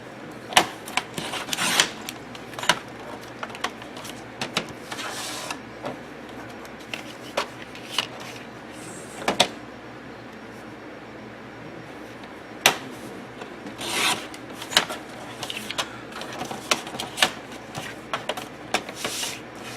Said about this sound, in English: Now we're going to cut them at 4 1/4.